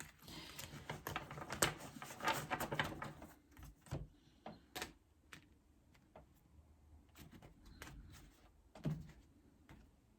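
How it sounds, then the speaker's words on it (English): Soft papery shuffling and riffling of a tarot deck, with quick clustered flicks and taps at close range, quieter pauses between bursts. "Give them a good shuffle."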